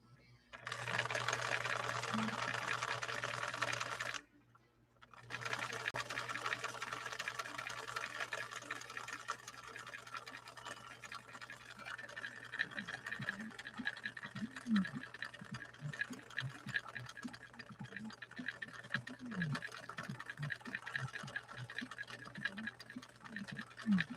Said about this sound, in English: Cam C with this Viking Husqvarna 21E from 1961.